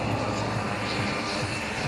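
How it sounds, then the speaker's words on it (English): Tucano propeller airplane engine running at an air show, a steady close drone with a low rumbling throb and no breaks. "the airplane starting up by us is at Tucano"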